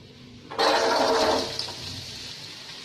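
Vegetables tipped into hot oil in a pan, a sudden loud sizzle bursting in and holding strong for about a second before easing into a softer steady hiss.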